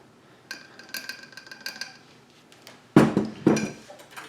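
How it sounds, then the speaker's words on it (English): Pickle brine and flour are whisked together in a bowl for a vegan buffalo wing batter, producing light scraping and clinking strokes, followed by several louder, heavier knocks of the utensil against the bowl near the end. "Just gonna mix this together to see if we got the consistency we need."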